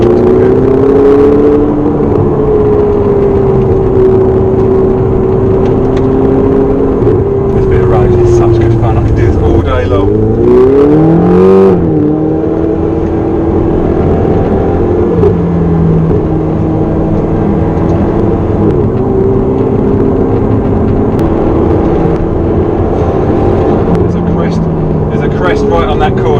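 A Ferrari 348 GT Competizione engine drones loudly and steadily while driving through sweeping corners, its pitch dipping and rising briefly midway, with a person talking over it throughout.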